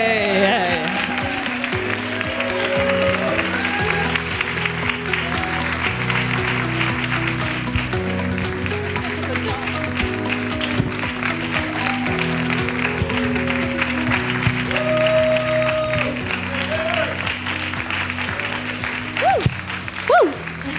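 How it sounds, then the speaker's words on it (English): Audience applause welcoming a new chapter chairwoman at a Los Angeles relaunch ceremony, steady clapping from a crowd that continues for about twenty seconds, with some voices and cheers mixed in. "A big round of applause."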